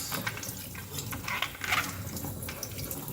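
Steady running water from a kitchen tap splashes over an apple being rinsed, a continuous close hiss with slight shifts as the fruit turns under the stream.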